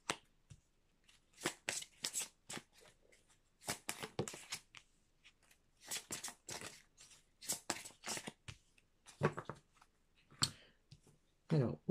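Oracle cards being shuffled by hand, crisp riffling bursts of card flicks repeating in quick irregular clusters with short pauses, close and clear against a quiet room.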